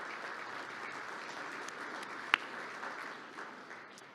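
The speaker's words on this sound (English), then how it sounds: "Can we get a round of applause for them?" Applause from the audience at an annual association meeting, a steady, fairly faint wash of many hands clapping at a distance, holding even throughout with one sharp brief knock partway through.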